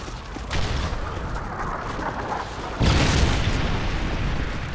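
A missile explosion in Modern Warfare 3 lands as a sudden loud boom partway through, followed by a sustained rumble over constant background battle noise.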